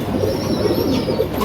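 A pigeon coos steadily at close range, soft low murmuring calls repeating through the whole short stretch, with no voices over them.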